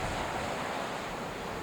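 Large 8 to 10 foot ocean waves surge onto a windy, storm-churned California beach, a steady roar of surf and wind noise that holds at a constant level throughout.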